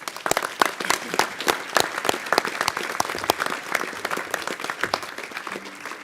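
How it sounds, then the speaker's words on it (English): Audience at a sports hall of fame banquet applauds honored former teammates: a moderate round of individual claps with distinct sharp hand strikes scattered irregularly over six seconds, thinning slightly toward the end. "I'd appreciate if you would both recognize with a round of applause Reggie Peters and Jeff Jan, if you would."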